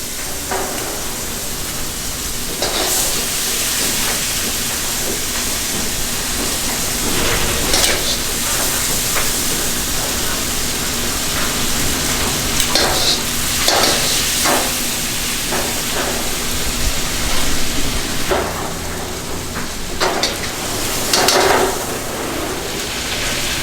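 Pieces of redfish fry in a hot pan, a dense, continuous sizzle with occasional crackling spikes and stirring scrapes, close and steady throughout.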